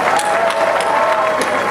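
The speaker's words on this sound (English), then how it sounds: "How about an added round of applause for Tim Remko and his amazingly talented ent" Audience applause and cheering at the grand opening ceremony of the Wizarding World of Harry Potter at Universal Studios Hollywood, a loud dense crowd roar of clapping throughout.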